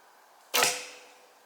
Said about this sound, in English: I've just smashed an arrow